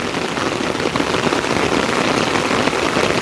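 Heavy monsoon downpour at Ganesh Ghat in Dombivli beside the flooding Ulhas creek, a dense, steady roar of rain pounding surfaces close by, with no voices.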